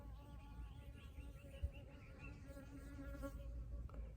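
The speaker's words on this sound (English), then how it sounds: "Oh, there's some honeybees dancing around me." Honeybees buzzing around outdoors on a mountain morning, a soft continuous drone with shifting pitch as they fly near and away, faint against low background rumble.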